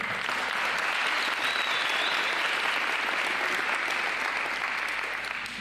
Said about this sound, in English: I'm going to give a round of applause to the parents and the coaches out here.